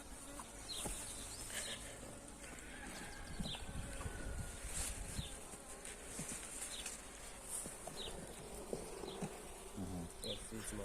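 Honeybees buzzing around an apiary hive while a colony is being rebuilt: a dense, continuous humming swarm close by, with individual bees droning past, faint and steady throughout and no clear speech.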